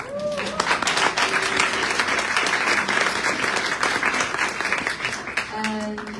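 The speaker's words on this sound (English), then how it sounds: "So if they are, give them an applause." Sustained applause from a conference audience at a climate event, a dense wash of many hands clapping at steady volume for several seconds before tapering off.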